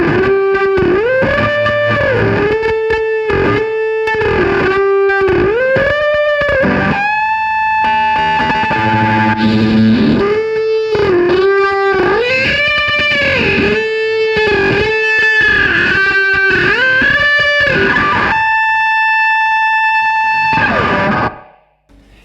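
Electric guitar run through a distortion effect pedal playing a song riff, loud and continuous with repeated chord stabs and bends, ending on a held note that cuts off.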